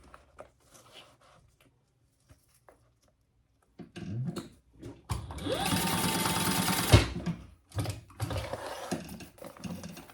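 A sewing machine bastes zipper tabs in place on a clear pencil pouch, starting after quiet handling noises with short bursts, then a loud sustained stitching run and a few brief follow-up bursts.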